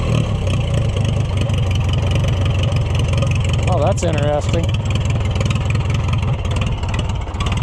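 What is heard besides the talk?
Oliver HG-68 crawler tractor engine idling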